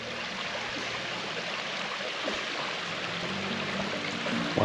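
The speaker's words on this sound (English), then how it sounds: "And here's the springs and creek coming through here." Spring water flowing into a creek pool at a state park in Colorado Bend, a steady broadband rushing and trickling that stays constant and fairly close throughout.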